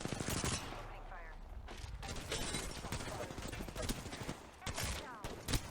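Gunfire rattles in a round of Apex Legends played as Bloodhound, rapid dense bursts of automatic shots filling the mix with brief gaps, while game voice lines speak over the shooting.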